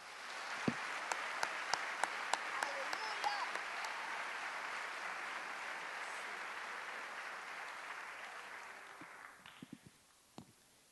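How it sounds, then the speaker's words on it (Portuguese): Church congregation applauding during a service, broad sustained clapping that holds steady for several seconds and then fades out, leaving a few scattered claps and faint voices at the end. "Aplauda o Senhor pela fé"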